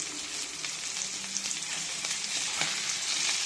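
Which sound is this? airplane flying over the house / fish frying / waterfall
fish frying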